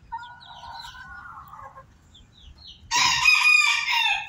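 Hybrid ornamental laying chickens cluck softly at first, then a rooster lets out a loud, close crow that fills the last second and a half.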